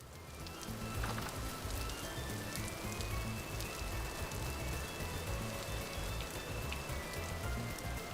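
Steady rain in the video game Vintage Story, a dense, even patter of drops on surfaces that holds at constant loudness for several seconds with no voices.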